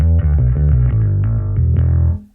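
Bass guitar run through an effects pedal with a built-in compressor plays a steady, full-bodied line of sustained low notes with a few plucked attacks over roughly two seconds, loud and close, then fades out at the end.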